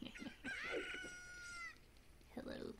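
A cucco chicken in a video game calling with a drawn-out crowing cry between short clucks, fairly faint behind game sound.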